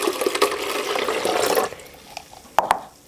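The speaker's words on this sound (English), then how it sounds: "And then I'm going to add about 2 cups of filtered water." Filtered water pours into a blender holding soaked black sesame seeds in a steady splashing stream for about a second and a half, then trails off into a few drips and small clunks.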